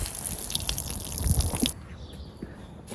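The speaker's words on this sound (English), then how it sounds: "Just going to let the water drip out first, as I don't want her to have a really soggy stable." Water drips and trickles from soaked hay in a farm stable, a close, steady patter that suddenly drops away to a quieter background partway through, with no talking.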